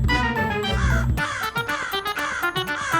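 Cartoon crow cawing in a series of short harsh calls over a busy music bed, close and fairly loud, trying to snatch a sweet fried snack.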